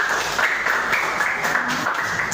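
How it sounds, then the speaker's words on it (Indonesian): A class of students applauds group 1 after their presentation in a school classroom, a steady dense patter of clapping throughout, fairly near and even, with no talk over it. "sekali lagi tepuk tangan untuk kelompok 1"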